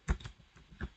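A few quick keystrokes tap on a computer keyboard as a web address is typed, close and soft, with no voice.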